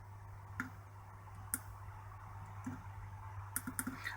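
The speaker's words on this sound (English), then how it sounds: "It's the clicking of the shutter on this thing." Faint, sparse mechanical clicks of a shutter at irregular intervals, a few single and a quick cluster near the end, over a steady low electrical hum.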